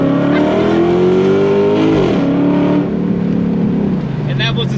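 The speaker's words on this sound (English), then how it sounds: "that was the sound of my 2009 Cam Dodge Charger SRT8" Modified, cammed 2009 Dodge Charger SRT8 engine holding a loud, close rev, with pitch climbing and then dropping, rough lumpy tone throughout and a slight settle toward the end.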